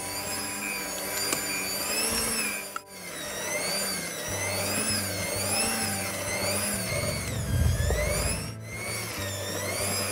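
An electric stand mixer kneading chocolate chip sandwich bread dough made without eggs, a steady droning motor whine with a slow rhythmic wobble as the dough turns, close and continuous without talk.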